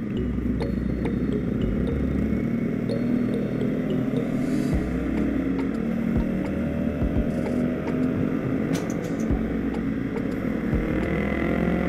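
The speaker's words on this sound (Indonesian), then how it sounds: "Ini Ninja 150, kencang itu motor bro, 150 2 tak" Kawasaki Ninja 150 two-stroke motorcycle engine running steadily, a continuous loud low drone with small dips and fluctuations in pitch, heard close up throughout with no talking.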